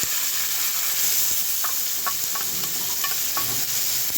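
Spiced chicken sautés with ginger, garlic and a ground masala paste in a pan, giving a continuous hiss of frying under scattered scraping stirs of a spoon, close and steady with no speech.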